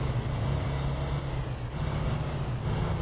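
A heavy truck's big engine in the Snowrunner off-road driving game, a steady low rumbling drone held at partial throttle, loud and continuous with no talking.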